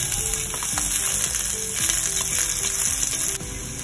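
Onion sizzles in a hot pan for a pork belly curry, a dense steady crackle with soft stirring scrapes repeating underneath, close and continuous without any talk.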